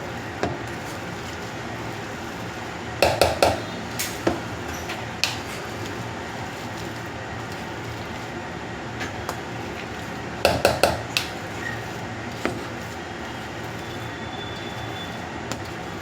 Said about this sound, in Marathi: यातच मी कॉर्न्स मॅश करून घेते.